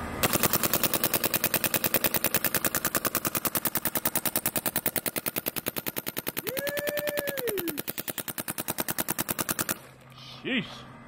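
A Splash Shocker RSX paintball gun fires a long rapid stream of shots through a chronograph, a steady machine-gun-like rattle of sharp pops close by, with a brief voice-like tone over it before the firing stops and a short noise follows.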